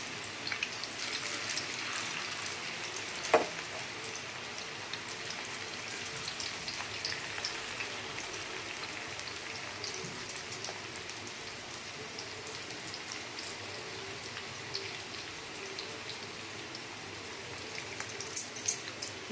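Mushrooms frying in a pan, a steady soft sizzle and bubbling with fine crackles, fairly quiet and even throughout, with no talking.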